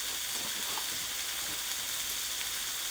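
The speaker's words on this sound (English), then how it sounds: "You can actually cook the veg in the butter" Vegetables sizzle steadily in a pan of oil and butter, a close, even frying hiss that holds without a break and has no voices over it.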